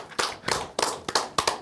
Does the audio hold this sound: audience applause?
yes